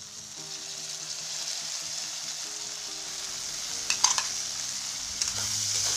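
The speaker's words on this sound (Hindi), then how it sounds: "हम तब तक फ्राई करेंगे जब तक कि हमारा आलू और गोभी पक ना जाए" Potato and cauliflower pieces sizzle in a pan for masala khichdi, a constant bright frying hiss with a low background hum and brief scraping stirs toward the end, no voices.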